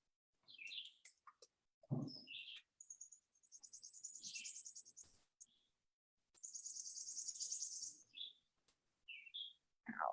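Birds chirp and tweet in scattered bursts in the woods, with some high trilling calls, quiet and distant against an otherwise still background.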